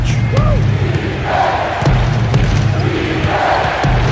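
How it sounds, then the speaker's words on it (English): In an NBA 2K13 simulated Pacers versus Nets game, a huge arena crowd roars after a three-pointer, a loud sustained wall of noise with a few sharp thuds and bounces underneath. "That shot eliciting a roar from this gigantic crowd"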